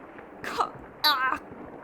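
Coughing and gagging sounds from characters in the horror video game Clock Tower: The First Fear, two short strained bursts separated by a brief pause, fairly close and moderately loud.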